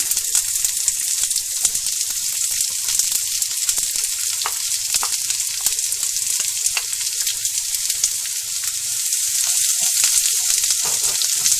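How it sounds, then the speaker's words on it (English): Onion frying in a pan with curry leaves for a Mangalorean chicken curry gives a loud, dense, continuous sizzle and crackle with no talking. "and fry the onion"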